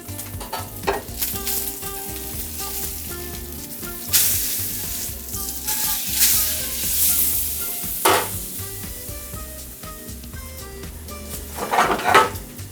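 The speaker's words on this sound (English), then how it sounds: "So we're cooking our fish nice and hot. We wanna get a nice crisp crust on that swordfish." Swordfish sears in a hot pan with a loud, steady sizzle and crackle, punctuated by occasional clanks of the pan and utensils.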